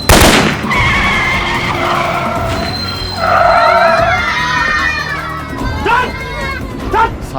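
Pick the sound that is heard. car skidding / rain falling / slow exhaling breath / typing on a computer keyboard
car skidding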